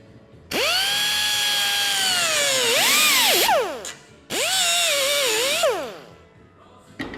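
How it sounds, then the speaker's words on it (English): A power drill whines loudly in two long bursts as it cuts out spot welds on a car body, its pitch sagging and bending as the bit bites into the sheet metal. "We just only wanna cut the spot weld, right?"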